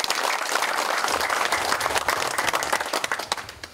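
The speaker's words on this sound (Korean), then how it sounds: "박수 한번 치십시오." Audience applause at an academic conference, a full room clapping steadily and loudly before thinning into a few scattered final claps.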